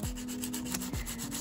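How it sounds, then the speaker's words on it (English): Rapid rhythmic rubbing and scraping of a nail file across painted tin, close up, with a faint steady hum underneath. "I've got a little sanding sponge here. It's actually just a nail file."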